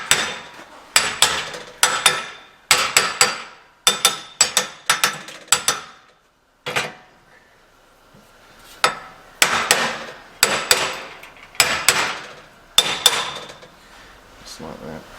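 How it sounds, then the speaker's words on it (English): Hammer blows tap a steering knuckle into place on a Toyota Prado 150, sharp metallic strikes coming in quick clusters of two to four with short pauses and a longer gap midway, close and fairly loud. "A little bit of a tap with the hammer"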